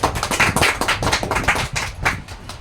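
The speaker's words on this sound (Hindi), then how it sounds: "एक बार मुन्ना सर के लिए शानदार ताली" A room of attendees at an RCM home business meeting claps for Munna Sir, the dense, uneven hand claps close and loud, running continuously without voices.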